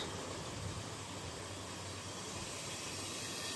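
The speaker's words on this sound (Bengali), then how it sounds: "মাছের মাথা ভাজছি, একটু ঢেকে ভাজছি" Fish heads frying under a lid in a covered pan over medium gas flame, giving a steady, even hiss and sizzle that holds throughout without pauses.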